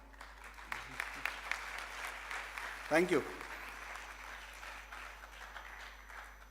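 Scattered audience clapping in a medical college auditorium during a vote of thanks, fairly faint and sparse, with a brief voice speaking midway.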